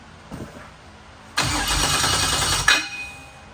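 A car engine on a build being prepped for King of the Hammers, just fitted with a new belt, cranks briefly and catches, then runs at a loud steady idle with a small rev bump before settling down.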